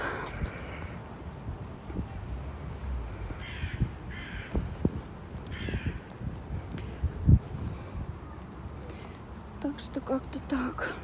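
Harsh crow caws come from a distance in Novokuznetsk, Russia, several in a loose series, against wind and rustling, with a person talking nearby.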